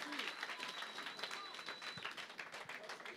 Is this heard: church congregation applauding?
yes